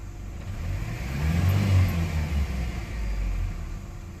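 A Ford Ranger's 2.3L four-cylinder engine idles at around 750 rpm after a tune-up, a low, steady rumble with a slight swell in the middle, heard at moderate distance with no talking.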